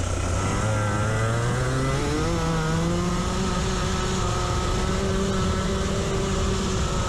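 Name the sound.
racing kart engine at full throttle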